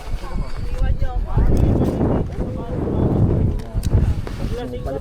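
Strong wind gusting and buffeting the microphone at an outdoor campsite in Cavinti, Laguna, a loud continuous rumble with people talking over it.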